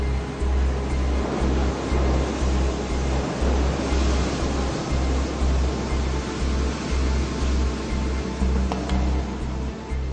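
Atlantic Ocean waves at the Ria d'Etel, a tidal estuary with shifting depths, roar as a loud, continuous, wind-blown wash of surf with a steady low rumble, no voices.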